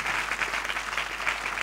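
Many worshippers in a Chennai church hall clap their hands together in a sustained, dense burst of applause, loud and unbroken throughout, with a faint low hum beneath and no voices heard.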